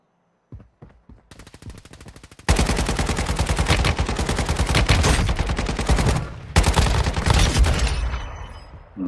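Dense gunfire in the Warzone Mobile game on the Verdansk map, with a few sparse shots at first and then sustained rapid automatic bursts that run loud and close for most of the stretch, with sniper fire in the mix.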